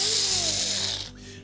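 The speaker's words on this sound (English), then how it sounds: "remove the 2 screws located in behind" Screws being backed out from behind the control knob on a GE electric range, a steady whirring power-tool drive that winds down and fades near the end, heard up close with no talk.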